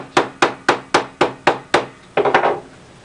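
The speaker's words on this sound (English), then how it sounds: "what you want to do is kind of hammer it into place" Hammer tapping a glued leather heel cup into place on a handmade medieval shoe, seven evenly spaced crisp blows followed by a quick cluster of lighter taps, close and clear.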